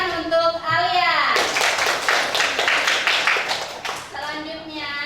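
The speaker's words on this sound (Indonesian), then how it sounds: "Oke, beri tepuk tangan untuk Alia." A classroom of students claps for a classmate during a lesson, a dense burst of clapping running through the middle of the clip with children's voices and talk before and after.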